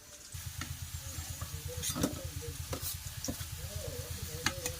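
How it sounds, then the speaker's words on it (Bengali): Potatoes fry in oil under a lid in a pan, giving a quiet, muffled sizzle with a fast, even patter of bubbling pulses and occasional sharper clicks, with no voices. "আলুটা একটু ঢেকে ঢেকে ভাজা করছি তাহলে তাড়াতাড়ি সিদ্ধ হয়ে যাবে আলুর ভিতরটা"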